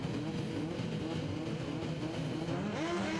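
Saloon and sports cars at the start of the final race of the year at Knockhill, Scotland: a steady, loud roar of many engines together, continuous throughout with no talk.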